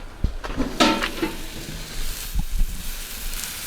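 Steak frying in a hot pan gives a burst of loud sizzling as it goes in, followed by a few clanks and scrapes, then a softer, steady hiss.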